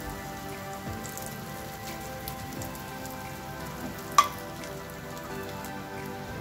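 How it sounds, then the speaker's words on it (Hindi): Bread slices frying in medium-hot ghee give a steady, soft crackling sizzle like light rain, with one brief sharp clink partway through and no voices. "हमें गोल्डन ब्राउन होने तक ब्रेड को फ्राई करना है।"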